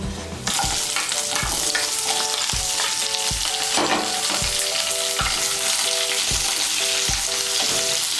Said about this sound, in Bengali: ক্যাপসিকাম আর পেঁয়াজটাকে আমি হালকা করে একটু ভেজে নেব